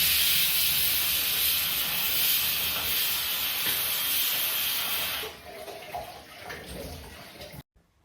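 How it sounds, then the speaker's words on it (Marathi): Kitchen pressure cooker venting steam, a loud steady broadband hiss that runs without a break for about five seconds, then drops away to quieter room noise and brief clatter before cutting off. "इकडे माझा कुकरही होत होता"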